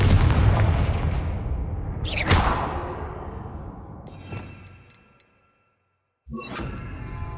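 Confringo fire spell in Hogwarts Legacy, a heavy booming blast with a whooshing burst and rumbling decay that fades to silence, then another loud impact kicks in, with no talk.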